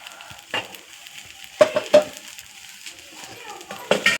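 Green gram dosa cooking in oil on a pan gives a low sizzle broken by a few sharp crackling bursts as the oil spits. A voice talks quietly over it.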